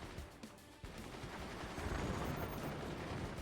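Mortars firing in the Forts game, a dense rumbling barrage of booms and thuds with a sharp impact near the start, building into a steady roar, with no speech.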